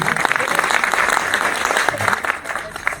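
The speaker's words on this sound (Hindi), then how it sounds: "थोड़ा ताली बजा दी इसके लिए" A short burst of applause from a small crowd at a Republic Day celebration, steady and close, with a voice faintly underneath.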